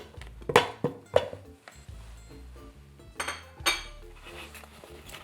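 Four sticks of butter dropped into a mixing bowl for Dr Pepper brownies, a few soft thuds and clinks of dish and utensil, close and fairly quiet, no talk.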